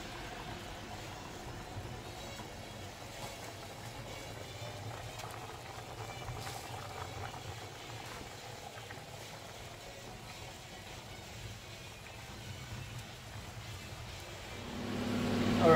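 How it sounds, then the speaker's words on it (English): Chickpeas, dry beans and pounded wheat simmer in a pot for aşure, a faint, steady bubbling hiss that runs throughout, with no voices. "our chickpeas and beans and pounded wheat are boiling"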